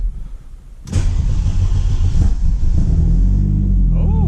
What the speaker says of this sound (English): the cold start's not the greatest